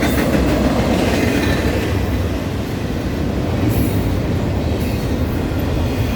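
A freight train led by KCS locomotives rolls past close by, with loud continuous rumbling and rhythmic clickety-clack from its wheels and brief metallic squeals.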